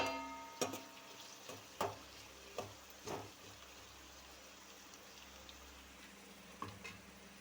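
Onions fry in a pan as part of an egg fry dish, giving a steady soft sizzle with a few sharp clicks and taps scattered through it, fairly quiet and with no talking.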